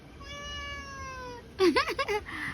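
A cat gives one long, steady meow, then a person's voice loudly imitates a meow right after it.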